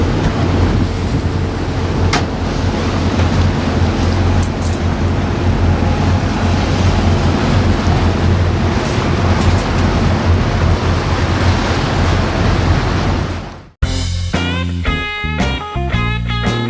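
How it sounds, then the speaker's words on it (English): Wind buffets the microphone and water rushes steadily past a private boat on the Danube River in Budapest, loud and continuous with no talk, before a sudden cut near the end to a different, choppier sound. "So now we're on a private boat ride on the Danube River."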